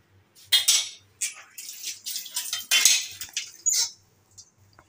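A metal spoon scraping and clinking against a plate while serving rice at home lunch, several bursts of scraping and taps separated by short pauses, close and fairly loud.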